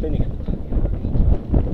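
Strong mountain wind on the Caraiman valley trail near Jepii Mici buffeting the microphone in uneven low rumbling gusts, loud and close.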